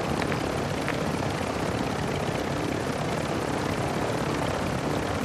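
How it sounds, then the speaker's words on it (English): A helicopter in Call of Duty Warzone 2.0 DMZ drones with dense, continuous rotor noise, loud and steady throughout, with no talk over it. "why is there a fucking helicopter?"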